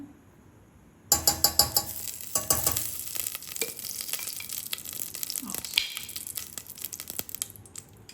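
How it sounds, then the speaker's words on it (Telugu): Ghee going into a pot for coconut payasam, giving a sharp clattering start followed by a light steady crackle and sizzle with scattered clinks of the utensil, close and fairly quiet. "దాంట్లో ఇప్పుడు నేను నెయ్యి వేసుకుంటున్నాను."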